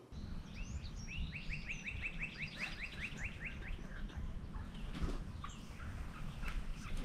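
A wild turkey gobbles in a rapid rattling burst, followed by more scattered gobbles and calls at a distance in open countryside.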